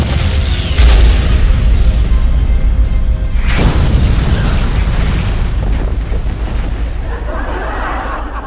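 Huge firework fountain (anar) erupting at a Diwali celebration, a loud continuous roaring hiss with a deep booming burst near the start and another strong blast a few seconds in, the spray slowly thinning toward the end.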